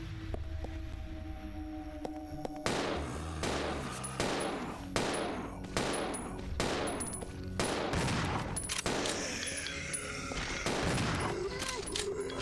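Handgun fire in Resident Evil 0 HD: a series of loud, sharp shots at irregular intervals over a quiet ambient game backdrop, each with a short reverberant tail, roughly a dozen in all.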